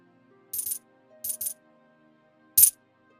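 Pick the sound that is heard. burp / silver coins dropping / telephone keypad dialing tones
silver coins dropping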